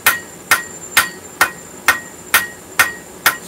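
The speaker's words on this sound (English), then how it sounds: "Take our cross peen" A cross peen hammer strikes hot metal on an anvil during forging, eight sharp ringing blows at a steady, even rhythm, loud and close with no talking.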